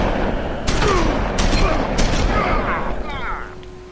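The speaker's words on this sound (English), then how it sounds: "I got shot." Gunfire in The Wolf Among Us, a few sharp shots and booms over dense game sound, with a voice speaking underneath.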